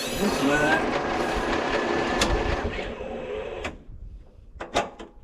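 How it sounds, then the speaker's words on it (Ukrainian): The starter motor of a cut-down T-16 tractor cranks with a continuous close whirring and clattering that fades after a few seconds, followed by a few brief clicks. "Чи крутиться? Ой-ой-ой, стартер же."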